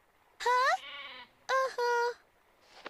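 A farm goat bleats twice in close succession, two loud, wavering cries rising and falling in pitch, with a softer murmur between them and a faint noise at the end, in an animated alpine farm scene.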